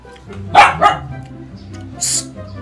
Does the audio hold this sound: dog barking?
yes